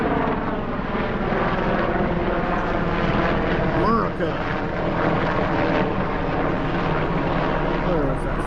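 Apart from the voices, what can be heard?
helicopter flying over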